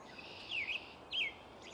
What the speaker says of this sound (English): This is a robin singing early morning song.